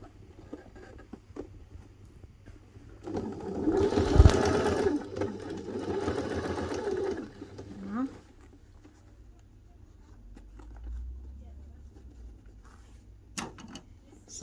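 A sewing machine stitching near the zip of a satchel bag, running in one steady whirring burst of about four seconds amid quiet handling noises.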